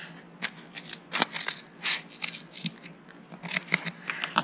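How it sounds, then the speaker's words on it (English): Scissors snip through paper while trimming the edges of a paper plant at a craft workshop. Close, irregular crisp cuts and rustles come in uneven bursts with no speech. "Cut those bits off."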